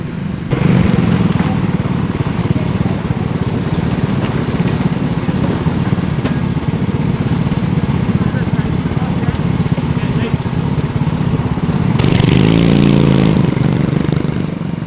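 A race car engine on track in a 12-hour endurance race, heard from on board as a loud, unbroken engine drone with a harsher surge near the end.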